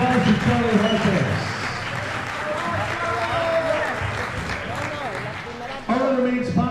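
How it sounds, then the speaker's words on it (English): Ringside at an amateur boxing tournament in Hempstead, New York, the crowd claps for a guest while an amplified announcer speaks over a busy, reverberant hall. "Take it with applause to Charlie Harkis."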